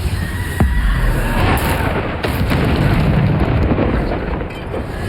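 Blasting spell explosions from Hogwarts Legacy ring out as a continuous, loud stream of booming bursts and crackling impacts, with several sharp hits standing out over dense, rumbling game noise.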